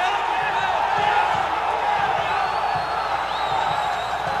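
A football stadium crowd roars and cheers after a Vasco goal at a 2007 Campeonato Carioca match against Cabofriense, a steady wash of voices and whistles with a commentator talking over it.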